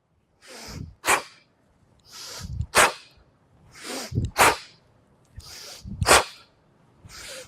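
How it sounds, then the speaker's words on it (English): Sharp, forceful breathing during kettlebell swings: a quick nasal inhale followed by a punchy mouth exhale, repeated in a steady rhythm about four times, close and clear. "I do a sharp exhale through the mouth when the kettlebell's up"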